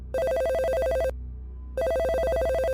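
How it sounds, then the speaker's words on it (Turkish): A telephone rings in two loud electronic bursts of rapid trilling tones, separated by a short pause, close and clear with no voices. "Bir süre sonra Samara'nın telefonu çaldı"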